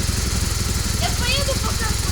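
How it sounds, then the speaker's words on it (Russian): Motorcycle engine idling just after being started with ether sprayed into the air intake, a loud, steady, close rumble that runs under people talking. "Набрызгали эфира в воздуховод и завелся."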